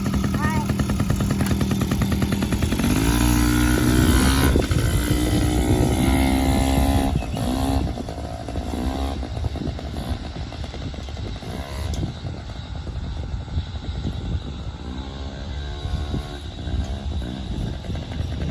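Yamaha PW50 dirt bike's small engine buzzes and revs loudly up close, its pitch rising and falling as the throttle opens, while people talk over it throughout.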